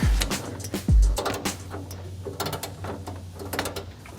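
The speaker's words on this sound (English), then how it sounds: "All I'm doing is taking out some bolts out of the core support." Someone removes bolts from a car's radiator core support, giving a series of close metallic clicks, ratchet-like taps and clunks at an uneven rhythm, with two deeper thuds near the start.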